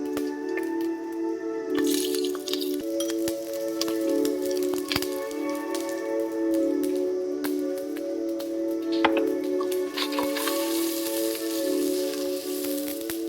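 Onions frying in a pan for a home-style curry give a steady, close sizzle with scattered pops and crackles, continuing without talk.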